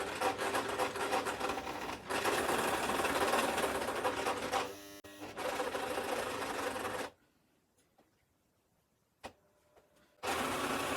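A sewing machine stitching a fancy velvet top runs in a steady, fast mechanical whir for about seven seconds, falls silent for a few seconds, then starts up again, close and alone.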